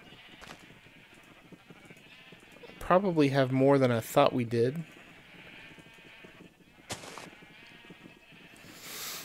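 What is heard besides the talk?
sheep bleating in Minecraft video game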